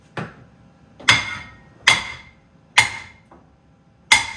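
Hammer blows strike a brake part on a Nissan 350Z during a brake install, five sharp metallic hits at an uneven pace with one fainter tap between, close and clear without talk.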